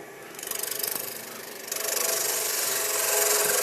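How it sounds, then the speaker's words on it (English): Sandpaper held against a spinning wood-turned piece on a lathe gives a steady close rasping hiss with a faint rhythmic flutter, then grows louder and denser partway through, with no talking. "Right, we'll go with that. We'll sand it from there."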